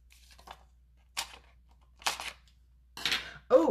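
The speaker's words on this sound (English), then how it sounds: "Scissors." Scissors snip through paper while a stamped card is being made, giving a few short, crisp cuts spaced apart in a quiet room, the last ones louder and closer.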